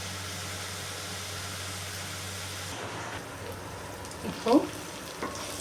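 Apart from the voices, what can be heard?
tomatoes sautéing in a pan on high heat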